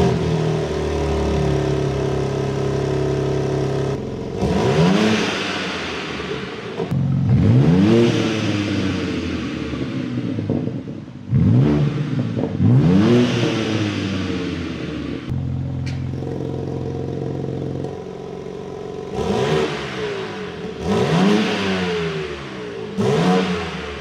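A 2023 car's engine revved repeatedly in its M2 Full Sport mode, sharp rising and falling bursts of revs separated by short idling pauses and crackles, loud and close, with no talking.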